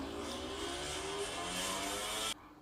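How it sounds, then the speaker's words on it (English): A motorbike engine warms up at a racetrack, a steady loud drone with rising pitch that cuts off abruptly near the end, with no talking. "We'll warm this bike up."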